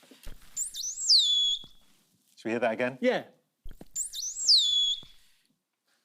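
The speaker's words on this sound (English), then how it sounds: "Let's hear the dolphin's whistle." A dolphin's rising-and-falling whistle is played twice, each high swooping call lasting about a second, with a brief exchange of voices between the two playbacks.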